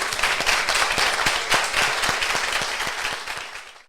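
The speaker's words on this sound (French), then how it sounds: "Je vous demande de faire un tonnerre d'applaudissements pour Jean-Pierre Heudier." A crowd at the Paris Marathon claps and applauds steadily, dense and sustained, fading out at the end.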